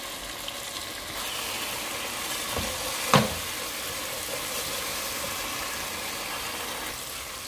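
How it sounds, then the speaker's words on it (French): Tomato frying in an oiled pan for red tomato rice, a steady soft sizzle throughout, close and even, with one brief clink in the middle. "Je grille d'abord ma tomate, 5 à 10 minutes,"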